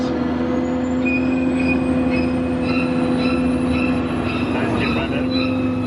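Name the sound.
theme park tram riding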